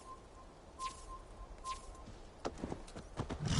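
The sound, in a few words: horse in the video game Assassin's Creed Valhalla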